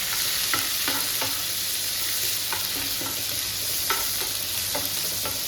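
Shallots, green chillies and curry leaves fry in hot oil for a crab curry, making a constant close sizzle broken by repeated scraping strokes of a spoon against the pan; no one speaks.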